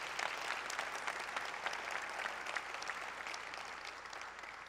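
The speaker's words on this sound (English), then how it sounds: "So please also give a big round of applause to Phil Washington" A large audience at the Metro State of the Agency 2018 event applauds for Phil Washington; the clapping is dense, steady and sustained throughout, with no voices over it.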